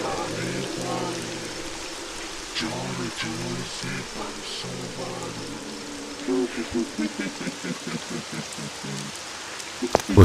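Rain falls steadily through the whole stretch with a constant wash of noise, while a voice hums or sings a tune over it and a few sharper taps come near the end.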